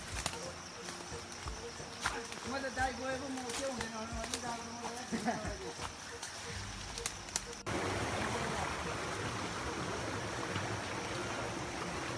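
A river stream rushes and gurgles steadily; voices talk over it at first, then the flowing water continues alone, loud and close.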